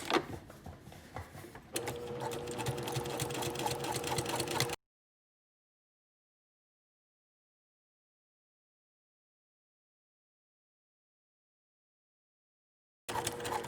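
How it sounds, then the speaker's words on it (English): Sewing machine stitching a casual shirt seam and backstitching to secure it, a steady close mechanical whir that runs for several seconds, cuts to silence, then briefly resumes at the end. "we'll want to do a nice little backstitch there to secure it"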